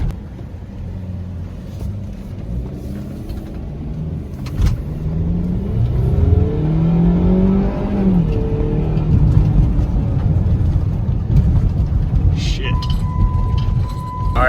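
Mercedes ML SUV cruising on the road in winter, a steady low engine and tyre rumble heard from inside the cabin with someone talking over it.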